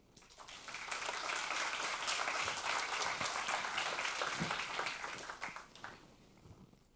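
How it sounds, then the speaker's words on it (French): A conference audience at AWS Summit Paris 2018 gives sustained applause: dense, steady clapping that swells quickly, holds for several seconds, then thins out and fades near the end. "Je vous demande du coup de faire un tonnerre d'applaudissements à Frédéric Arnoux"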